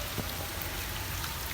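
Light autumn rain falls steadily over a village in the evening, a dense, even patter that stays constant throughout with no voices.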